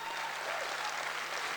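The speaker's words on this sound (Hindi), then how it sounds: "मैं पूरे हाउस से रिक्वेस्ट करूंगा इनके लिए दोस्तों एक जोरदार ताली बजाएं" An audience at a success seminar claps together in a steady, dense wash of applause, sounding somewhat distant and fairly quiet throughout.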